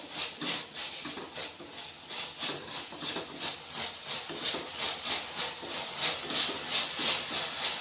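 Curry leaves and chopped spring onions sautéing in an oil-filled pan, a soft continuous hiss and crackle with gentle pulsing sputters, fairly faint and close, no one talking.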